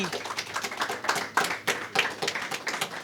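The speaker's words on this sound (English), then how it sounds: "can I get a round of applause for Chad?" At a hemp festival award gathering, a handful of people clap in uneven bursts. The sharp hand claps sound close and sparse rather than like a full crowd, and there is a faint murmur behind them.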